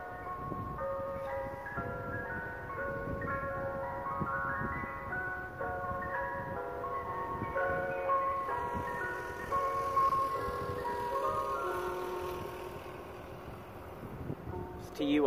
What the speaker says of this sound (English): And creepy ice cream truck back there.